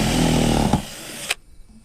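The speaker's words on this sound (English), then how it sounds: "Sometimes a big drill bit and a small drill takes a little more to get through" A small power drill boring a hole with a large bit, a loud close motor whine under load that stops abruptly, followed by a sharp click and quiet.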